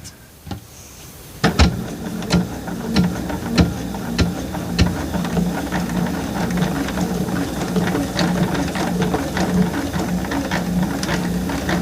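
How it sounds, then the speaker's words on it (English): A sewing machine runs slowly through thick fabric with an extended strap for a baby bath apron, a loud, close, steady mechanical chugging after a few isolated stitches at the start, with no voices. "what I'm doing now is just sewing"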